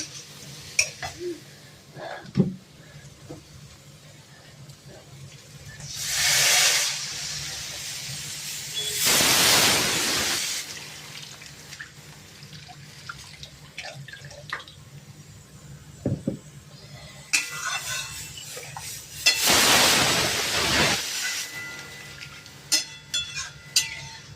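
Water poured into a pan of fried spice paste sets off loud bursts of sizzling and hissing steam, rising and fading several times between quieter stretches with occasional clinks of utensils.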